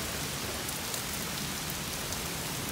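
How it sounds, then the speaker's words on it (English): Rain pours down hard during a thunderstorm, a dense, even hiss of drops on surfaces with no voices, steady throughout. "Here comes the rain now."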